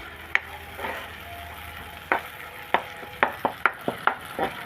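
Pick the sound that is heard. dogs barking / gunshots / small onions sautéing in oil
small onions sautéing in oil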